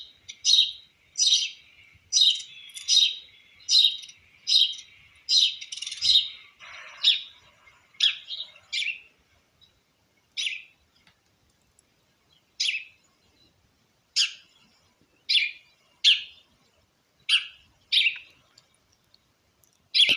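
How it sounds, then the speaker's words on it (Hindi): Small birds chirp and sing alone against a quiet background, bright repeated phrases arriving in quick succession for the first few seconds, then spaced out in separate bursts every second or so. "किस तरह की आवाज़ें हैं चिड़िया की आपके कानों में जा रही है।"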